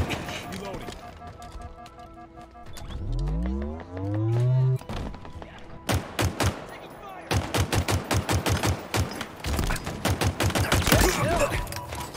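Rapid automatic gunfire in Halo Infinite, sharp repeated bursts of shots in quick rhythmic runs, loud and close, with a descending whooshing tone beforehand and a voice speaking over it.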